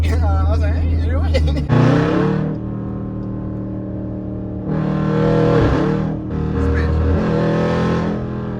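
A Jeep SRT with catless mid pipes, its engine revving hard in loud bursts that swell and drop back to a rumbling idle, close by, with no clear talk over it.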